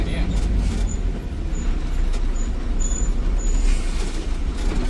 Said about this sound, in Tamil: வண்டி இப்போ தான் வேகம் எடுத்துச்சு